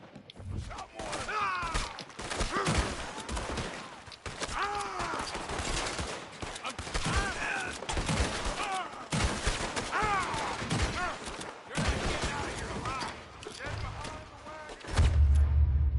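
A gunfight in Red Dead Redemption 2, scattered and clustered rifle and pistol shots cracking over several seconds, with characters shouting and talking throughout the exchange.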